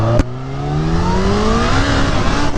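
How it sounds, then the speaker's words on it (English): A supercharged Kawasaki Ninja H2 motorcycle accelerates hard, its engine note climbing steadily in a loud, close, continuous rising whine with a brief sharp burst at the start. "your freaking tire breaking loose at quarter throttle"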